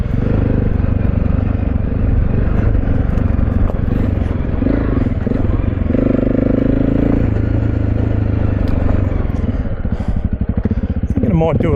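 Honda CRF300 Rally motorcycle rolling downhill on a sunny day, its engine note steady and loud throughout with harmonics shifting as speed changes, plus clattering and wind buffeting; a rider's voice is heard over it.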